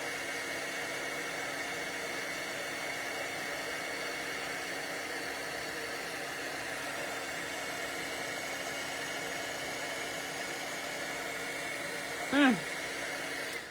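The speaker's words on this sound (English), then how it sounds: "we're gonna hit the heat tool on it" A heat tool blows steadily on embossing powder over a paper butterfly, a continuous close airy whir like a hair dryer running alone throughout, with a brief louder knock near the end.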